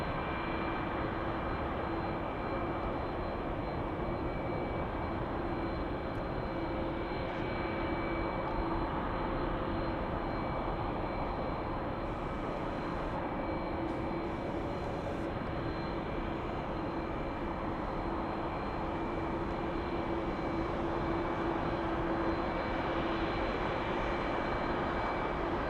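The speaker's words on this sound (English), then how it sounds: "Southwest 1297 flying to Tucson" A Southwest Airlines jet at LAX airport, a steady loud engine roar with a sustained whine held throughout, constant and close with no talk.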